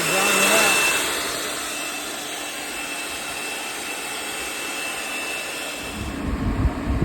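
A fan blowing air into a baffled diesel fuel tank to dry it quickly, a steady broadband whoosh that dips slightly after the first second, with a brief rumbling knock near the end.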